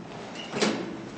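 Late-1990s Goodgames Elevadores Mod Ultima lift doors sliding shut, a single brief swish with a soft thud at the end, close and moderately loud and heard alone.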